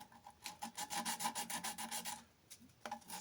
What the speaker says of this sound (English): I'm just taking some sandpaper and